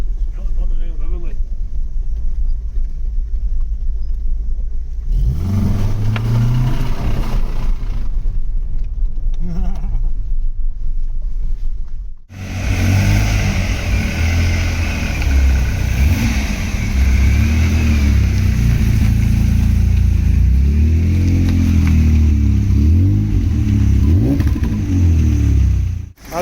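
A worn 2.0 eight-valve car engine revs unevenly and roughly, rising and falling in loud bursts with rattling, while a person talks over it at times.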